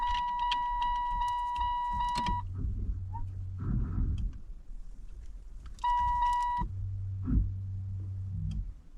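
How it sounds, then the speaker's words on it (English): Repeated high electronic beeps from a car alarm beeper in two bursts, with a low engine-like hum between them and faint clatter. "First task, get rid of the beeper."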